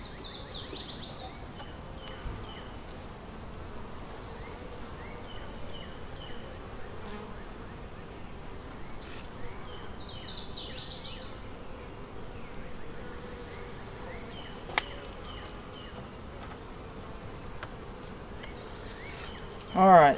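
Steady low insect buzzing of many honeybees around a hive drones throughout, with faint higher chirps here and there and a brief knock near the end.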